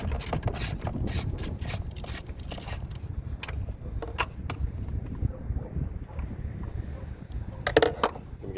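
A ratchet wrench clicks in quick bursts while loosening a 10mm nut on the battery clamp of a 2007 second-generation Mini Cooper, with close metallic ratcheting broken by brief pauses and small scrapes.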